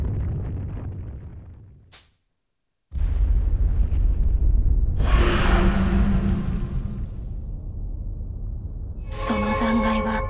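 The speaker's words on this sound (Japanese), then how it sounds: "眩しい閃光とともに、タラスクスは大爆発を起こした。" A large explosion goes off in the video game Fuga: Melodies of Steel 2: a sudden loud blast after a moment of silence, rolling into a sustained rumbling roar with a bright crackling burst near the end.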